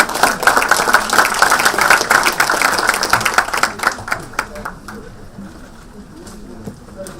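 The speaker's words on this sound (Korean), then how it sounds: "격려의 박수로 맞이해 주시면 고맙겠습니다" Audience applause at a Korean party floor-leader candidates' speech event greets the next speaker, dense clapping that runs steadily for a few seconds, then thins and fades to scattered claps.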